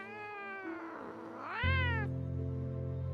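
A pet cat gives a long, drawn-out meow that rises and bends in pitch, close and clear, over a steady hum of background music.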